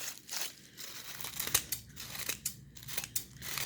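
Scissors trim a gift tissue-paper flower up close, with a run of quick, crisp snips and soft paper crinkling at an irregular rhythm and no voices.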